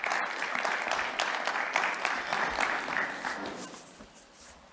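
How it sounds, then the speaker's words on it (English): A conference audience claps for a speaker on sports marketing, a medium-sized burst of clapping that swells, then gradually thins and fades toward the end. "It's probably best to clap first"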